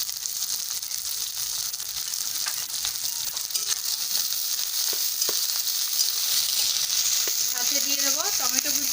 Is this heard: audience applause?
no